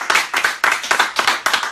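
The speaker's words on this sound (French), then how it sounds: "on peut refaire un applaudissement avec tout le monde" Loud, close rhythmic clapping, bursts of a few people's hands in a steady beat of about six pulses, with no talk.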